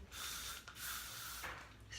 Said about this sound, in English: you can take your trusty hairspray